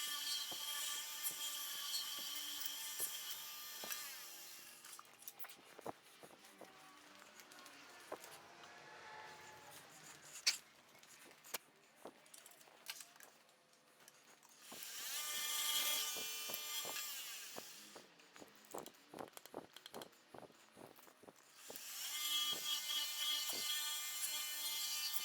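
Wood lathe turning small hobby-knife handle blanks, with repeated bursts of broadband scraping and cutting that swell and fade, interrupted by ticks, knocks and quieter gaps; no talking.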